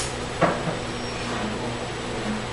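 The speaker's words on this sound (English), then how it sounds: "Bench door." A bench door is opened or shut once, a single short knock-like thud early on against a quiet room hum.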